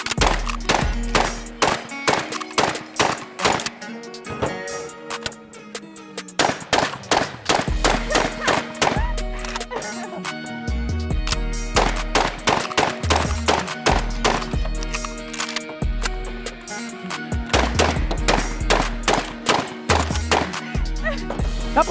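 Rapid volleys of gunshots ring off a spinning steel target, each crack followed by a metallic clang, in fast bursts with brief pauses between strings of fire.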